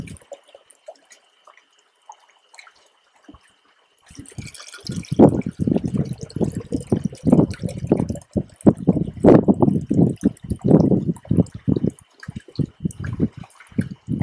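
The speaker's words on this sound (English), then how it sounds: "all you need to do is fill each jar with water" Water is poured into glass jars of soil, starting after a quiet opening and continuing as loud, uneven splashing and gurgling bursts until the end.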